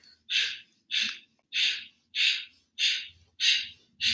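Yoga breath of fire, with seven forceful, evenly spaced nasal exhalations up close, each a short hissing puff separated by brief silence.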